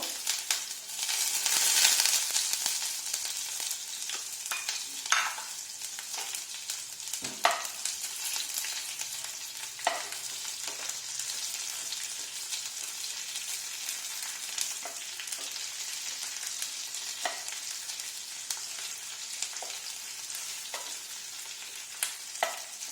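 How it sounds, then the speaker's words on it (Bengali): Onion frying in oil in a pan, a steady close sizzle running throughout with periodic scrapes of stirring, no voices. "ভাজা ভাজা করে আমি পেঁয়াজটা দিয়ে দেবো"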